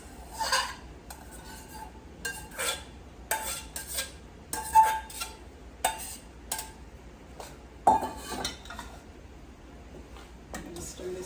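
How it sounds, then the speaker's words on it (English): Onions, peppers, garlic and pulled smoked turkey neck meat stirred in a pot, a utensil scraping and clinking against the metal in irregular bursts, fairly close and quiet, with pauses between strokes. "I'm going to stir this together"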